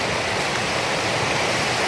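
A river in Galloway National Park, Scotland rushes in a dense, steady broadband wash, loud and close, with no other sounds standing out.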